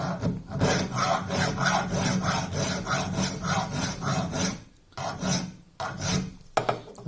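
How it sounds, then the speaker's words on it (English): A hand file rasps across the end of a small workpiece clamped just above the jaws of a vise, steady rhythmic back-and-forth strokes close and loud, pausing briefly near the end before a few final strokes. "So I'll always clamp my work so that I'm filing horizontally."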